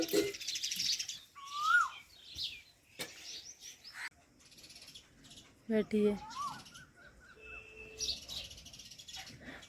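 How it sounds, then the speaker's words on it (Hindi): Birds chirp and call outdoors near a garden with lemon trees, scattered clear tweets and whistled notes over a quiet background, with a brief spoken word and other light sounds in between. "चिड़ियाँ चहचहा रही हैं"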